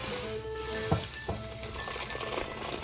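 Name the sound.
pasta cooking in a pan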